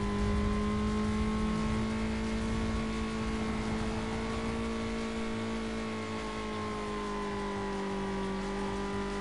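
Steady engine drone of racing cars in Need for Speed Most Wanted as a rival car closes in, a sustained loud hum with gently wavering pitch and a low rumble underneath, no talking.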